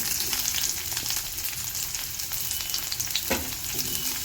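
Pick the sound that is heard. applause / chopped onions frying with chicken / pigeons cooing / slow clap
chopped onions frying with chicken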